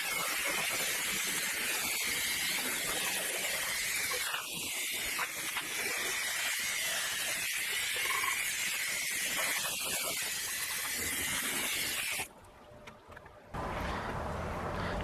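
Water spray rinsing a car engine compartment after all-purpose cleaner, a steady loud hiss from a hose that runs continuously, briefly cutting out near the end before resuming.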